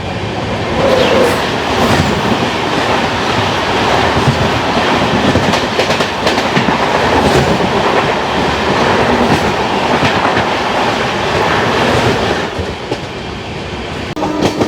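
A Jhelum Express passenger train on an Indian railway line passes close by, its loud, continuous rumble and rhythmic clickety-clack of wheels filling the whole stretch with no voices.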